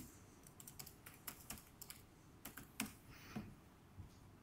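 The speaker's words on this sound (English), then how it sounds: "And I'll just do some fast typing" Quick keystrokes on a laptop keyboard, a rapid irregular burst of close, crisp clicks with short pauses between runs.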